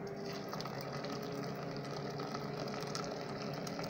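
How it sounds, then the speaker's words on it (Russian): Boiling water pours steadily over halves of brains in a pot, a continuous quiet, even liquid rush lasting a few seconds with no voices. "Заливаю их кипятком"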